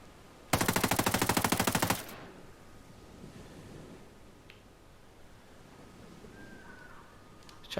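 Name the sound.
416 Shorty rifle firing full auto, Ghost Recon Breakpoint video game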